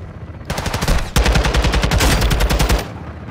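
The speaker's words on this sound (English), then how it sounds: "Why are you guys shooting him?" Rapid sustained automatic gunfire in Modern Warfare 2 Remastered, loud and close, starting with a short burst and then continuing as a dense rattling stream for about two seconds before cutting off.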